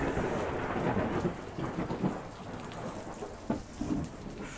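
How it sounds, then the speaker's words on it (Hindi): Thunder rolls in low, repeated rumbles over steady rain falling around a house, heard from a sheltered veranda, with a couple of sharper cracks toward the end. "बादल गरज रहा है"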